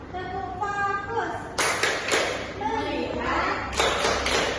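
Students in a classroom perform the 'tepuk fokus' clap routine, with a few short bursts of group clapping, the first two close together and the last pair near the end, all set against ongoing chanting voices.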